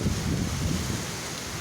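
Strong wind roars through the town of Magetan in the morning, a loud, steady broadband rush with low buffeting against the microphone and no break in the gusts.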